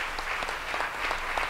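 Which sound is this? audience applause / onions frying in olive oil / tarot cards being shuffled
audience applause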